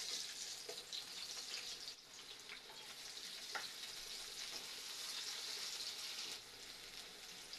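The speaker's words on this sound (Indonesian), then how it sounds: "Langsung saja kita tumis bawang putih dan bawang bombaynya terlebih dahulu." Garlic and onion sauté in hot oil, a continuous bright hiss and crackle with faint stirring underneath, steady and close with no talking.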